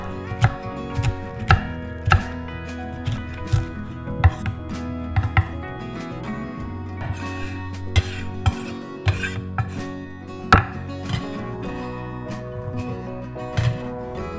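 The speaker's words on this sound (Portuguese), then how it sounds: "Corte essas tiras em quadrados grandes." Knife chopping red bell pepper strips into large squares on a cutting board for a Brazilian moqueca fish stew, a steady series of sharp close taps with no talking.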